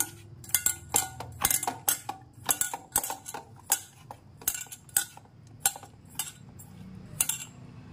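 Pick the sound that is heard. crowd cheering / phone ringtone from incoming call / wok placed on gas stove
wok placed on gas stove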